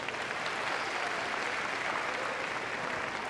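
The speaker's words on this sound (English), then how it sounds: "Let's give him a round of applause." A crowd at the Crufts 2014 rescue dog agility event applauds in a steady, distant wash of clapping with no clear breaks.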